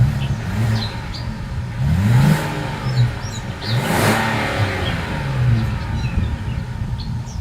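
A Kia Carnival minivan exhaust revs up sharply a few times, rising and falling between throaty bursts, then settles into a steady idle rumble close by.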